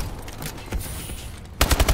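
Assault rifle fire in a video game: a tight, loud burst of rapid automatic shots near the end, after quieter game noise.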